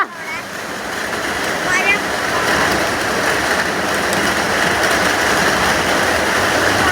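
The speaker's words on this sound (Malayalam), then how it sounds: "മഴയാണ് മഴ മഴ" Heavy monsoon rain pours down over a ginger and turmeric field, a loud, continuous hiss of downpour at close range, with a voice briefly audible beneath it.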